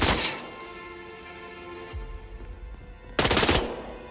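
Gunfire in the video game A Death in the Family, a short burst of rapid shots at the start, then a thud and another loud heavy burst near the end over a quieter game backdrop.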